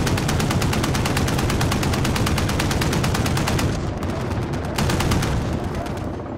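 Tank fire and dense gunfire in Call of Duty Modern Warfare Spec Ops make a loud, continuous barrage of rapid shots that dips briefly then resumes, filling the whole stretch.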